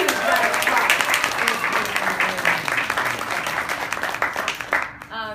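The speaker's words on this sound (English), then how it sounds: "Can we get a huge round of applause?" Audience applause welcomes a speaker at a campaign event on ending slavery, a sustained burst of clapping that fades near the end as a voice begins.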